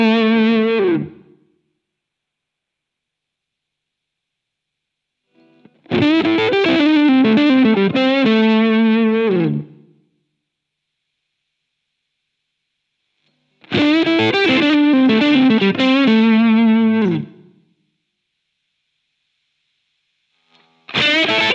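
Electric guitar played through a Flattley The Ace pedal, loud distorted chords and arpeggiated notes in separate phrases of a few seconds each, broken by silent gaps.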